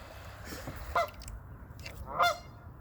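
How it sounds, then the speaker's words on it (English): A goose honks twice, loud and close, about a second apart, near kayakers paddling a river, with faint background noise between the calls. "Troy, that goose is gonna nibble you."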